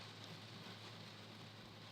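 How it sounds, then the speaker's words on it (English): Rain falls steadily as a dense, even hiss with no breaks, fairly faint and unchanging throughout. "Wow, it is raining."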